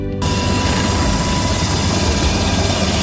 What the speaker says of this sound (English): I'm going out in a second wave on some Black Hawk helicopters into some other areas that are completely isolated.